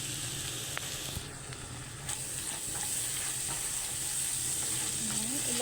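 Steak bites with potatoes sizzle steadily in a hot pan, a constant frying hiss with occasional scraping stirs, close and fairly loud with no talking.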